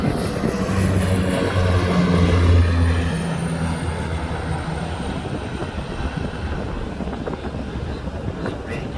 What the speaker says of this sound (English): It's a seaplane taking off right overhead.